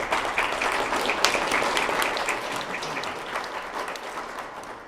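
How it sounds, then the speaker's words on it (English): An economic forum audience claps steadily in a room, a dense, moderately loud wash of applause that tapers slightly toward the end. "how about a round of applause for everybody?"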